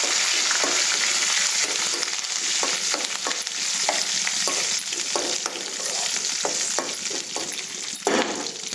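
Green and red chillies with curry leaves frying in a pan for sesame rice, giving a steady close sizzle broken by regular scraping stirs of a spoon, with no voices.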